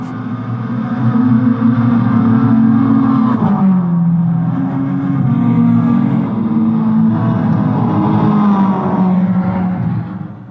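Racing video game engine note driven through bass shakers on a home sim rig, a loud sustained low drone with rising and falling revs and a brief dip mid-way, alone without talk.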